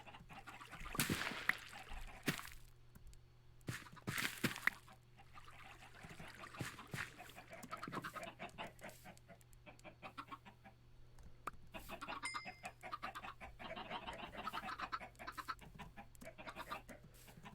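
Chickens on a video game chicken farm cluck and squawk in repeated short bursts over a faint steady hum, fairly quiet and without talk.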